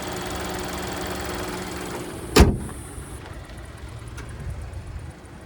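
A 2026 Buick Envista's 1.2-liter turbocharged three-cylinder engine idles steadily with a low hum, broken by a single sharp click or thump partway through, then continues at a quieter, even level.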